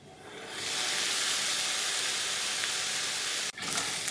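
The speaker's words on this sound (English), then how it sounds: "While the peppers and onions are sauteing in the pan here" Peppers and onions sizzle steadily in a hot pan for Sloppy Joes, a broad continuous hiss that swells in after a moment and holds, dipping briefly near the end.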